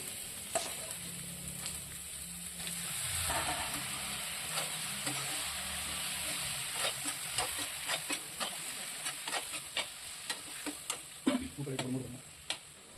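Tomatoes frying in a pan for a spicy mutton lung stir-fry, a steady sizzle under repeated scraping and tapping of the spoon against the pan, with a quiet voice in places.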